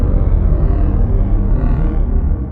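A loud, dark synthesizer pad preset called Pad Evil holds a dense, rumbling chord that swells steadily and fades slightly at the end.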